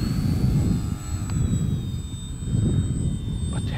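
A Scorpio Miss Bipe 1.08 m vintage RC biplane flies past during its maiden flight, its small engine giving a steady, loud buzzing drone with a high whine that swells and eases as it passes close by.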